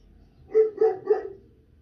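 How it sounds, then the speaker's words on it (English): A dog indoors gives three quick, moderately loud barks in a short burst, with no voices. "Excuse my dog."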